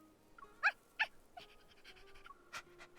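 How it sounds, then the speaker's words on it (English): A small dog in the video game Love and Deepspace panting and whimpering softly, with a few sharp yelps or breaths standing out near the start and end, close and fairly quiet. "It cheerfully barks and quickly licks Silas's cheek."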